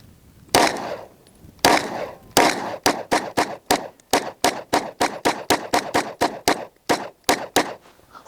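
A Gun Prodigy pistol fitted with an Atlas toolless guide rod fires Remington +P bonded hollow points: a few spaced shots, then a rapid string of about twenty sharp, loud cracks in close succession.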